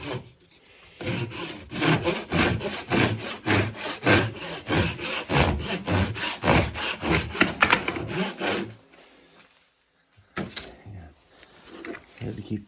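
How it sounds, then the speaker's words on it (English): Hand saw cutting wood for a guitar neck dovetail, with quick rhythmic back-and-forth rasping strokes running steadily, a pause, then a few more strokes after silence. "I'm going to cut down on this one first. And then I'm going to cut along the line."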